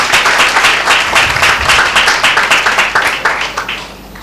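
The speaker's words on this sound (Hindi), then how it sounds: "किसी ने ताली नहीं बजाई भाई?" A church congregation claps together at a Tuesday meeting, loud, close, rhythmic clapping from many hands that keeps a steady beat and gradually tapers off.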